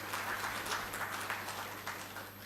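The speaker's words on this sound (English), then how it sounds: "I want you to give a bigger round of applause for the Chancellor of this university, Dr. N.N. Datta." An audience at a conference applauds, a dense wash of many hands clapping together, steady and fairly distant, lasting a couple of seconds.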